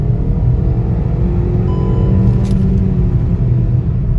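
Hyundai Grand i10 Nios 1.2L AMT car accelerating at full throttle from fifth gear, a steady loud engine drone and road rumble heard from inside the cabin, continuous without speech.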